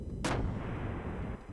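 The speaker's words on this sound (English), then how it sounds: "Judging by the angle, it seems as if a gun blast has made a hole in the hull." A ship's gun blast from the video game Xenogears fires once as a sharp, loud, explosive crack, then leaves a long rumbling boom that carries on to the end.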